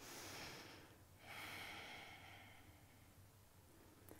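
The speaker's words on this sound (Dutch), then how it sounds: "En dan hoor je ook een zacht ruisend geluid achter in je keel." Soft, steady nasal breathing in power yoga, the ujjayi style with the mouth closed and a gentle rushing hiss at the back of the throat, close and faint over low background hum, with one slow breath cycle.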